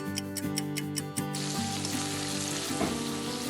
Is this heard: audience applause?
no